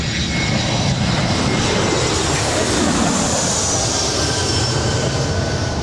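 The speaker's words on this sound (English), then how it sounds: "She's an Airbus A321 coming in from Detroit." A Delta Airbus A321 from Detroit arrives at LAX, its jet engines a loud, broad, continuous roar close by throughout.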